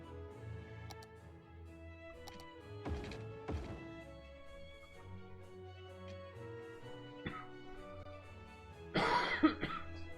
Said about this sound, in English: Sorry for the coughing. Still sick.